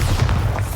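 A Bombarda blasting spell explodes in the Hogwarts Legacy video game, a single short, deep, rumbling boom lasting under a second.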